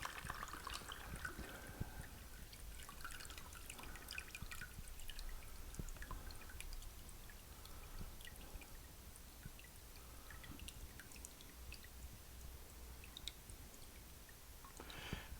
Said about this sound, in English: Getting very little honey through now.